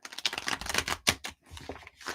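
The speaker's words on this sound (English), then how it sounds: "Barry, still shuffling up for you" A deck of playing cards is shuffled by hand in quick, crisp riffles and ruffles. A short louder flutter stands out, then softer handling follows, and no voice is heard.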